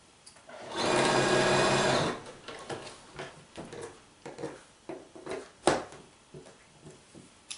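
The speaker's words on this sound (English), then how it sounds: "So I'm going to stitch my half square triangle units to a background square" Sewing machine running a quick, steady burst of stitching on half-square triangle quilt block units for about a second, followed by soft handling clicks and fabric rustles with no talk.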